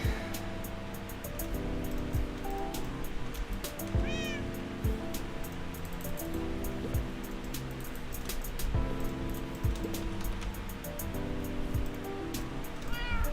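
Several cats mew intermittently in a Minecraft hardcore world, faint short calls scattered across the stretch, a couple more distinct, over continuous ambient game music and water-like wash, without speech.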